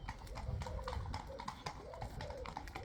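Several horses' hooves clip-clopping on a road early in the morning, close behind, a steady run of sharp knocks throughout, fairly faint, with a little background noise.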